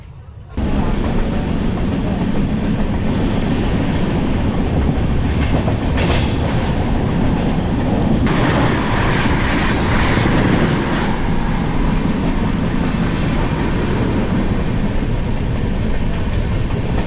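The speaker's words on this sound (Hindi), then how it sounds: "डिपार्चर हुई है हजरत निजामुद्दीन के 8 नंबर प्लेटफॉर्म से हमारा छत्तीसगढ़ संपर्क क्रांति एक्सप्रेस ने" The Chhattisgarh Sampark Kranti Express pulls out of platform 8 at Hazrat Nizamuddin station, a loud, steady rumble of rolling wagons with clattering wheels heard from close by, sustained without pause.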